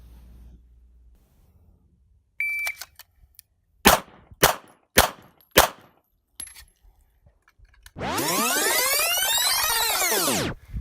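Handgun fired during a diminishing dot drill, four sharp separate shots in quick succession, each one loud and close, after a few small clicks and before a long sweeping metallic ringing burst.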